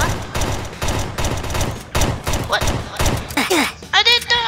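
Bursts of gunfire crackle in a rapid fusillade, loud and close, with frightened voices shouting over and between the volleys.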